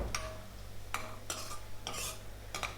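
Cashews and raisins fry gently in ghee in a pan, with a faint background sizzle and several sharp scraping stirs of a metal spoon at irregular intervals.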